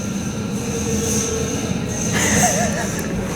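A 1973 Otis traction elevator at the Tan-Tar-A resort in Osage Beach, Missouri, runs with a steady low rumbling hum and faint whine. A brief rising tone sounds near the end.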